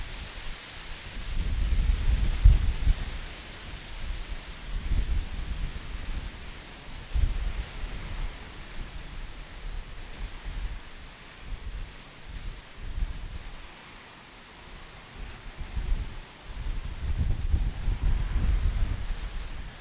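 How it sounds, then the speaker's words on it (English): Strong wind gusting outdoors at the old London docks, loud buffeting rumbles that swell and ease in waves across the microphone, with no talking. "Lots of wind."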